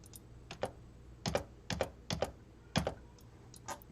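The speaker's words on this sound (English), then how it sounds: "so you could probably hear me hitting the spacebar on the keyboard" Spacebar presses on a computer keyboard, about nine or ten sharp, hollow clacks arriving in loose pairs and singles, close and fairly quiet against a low room hiss, with no talking.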